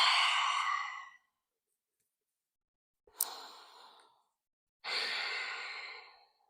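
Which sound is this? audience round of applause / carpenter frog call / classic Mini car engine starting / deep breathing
deep breathing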